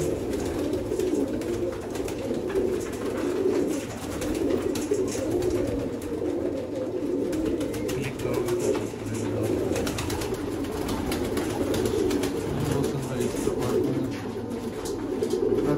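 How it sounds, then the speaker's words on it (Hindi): Sialkoti pigeons coo continuously in low, throaty, rolling calls, several birds overlapping close by with a constant background rustle. "सियालकोटी जोड़ा है नादर भाई माशाल्लाह मास्टर अब्दुल्ला वाला 22 वाला कबूतर है"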